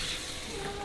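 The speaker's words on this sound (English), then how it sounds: "now I'm stir fry everything for about like 3 minutes" Rad na ingredients stir-frying in a hot wok, a brief, steady sizzle and hiss heard close and unbroken, with no talk.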